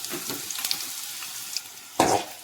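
Black pepper and coriander seeds roast in a pan as they are stirred toward brown. Soft sizzling runs under light scraping strokes, with one louder stir near the end.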